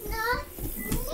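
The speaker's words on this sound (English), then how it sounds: "Now you got the kids screaming while I'm trying to record." Children's voices shrieking and shouting in the background while a game of Left 4 Dead plays, a busy, continuous clamour of kid noise at moderate level.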